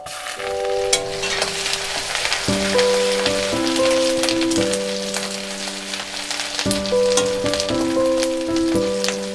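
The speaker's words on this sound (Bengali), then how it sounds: "আদাটা ভাজা হয়ে গেছে একটু লাল লাল করে।" Chopped ginger fries in hot mustard oil with a knob of butter, giving a steady, close sizzle that runs the whole time, with no talk. Sustained musical tones sit beneath the frying throughout.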